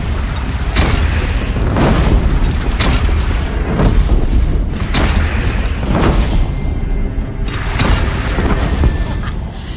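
Repeated heavy booms of cannon fire from a bandit clan in Horizon Zero Dawn, loud and spaced every second or two over a dense, continuous battle din.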